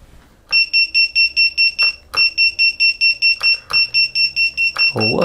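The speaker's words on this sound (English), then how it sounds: "So let's just set up the buzzer." A Diatone GT2 2017 quadcopter's onboard buzzer sounds a loud, close, high-pitched electronic beep train in rapid steady pulses, broken by brief pauses and clicks.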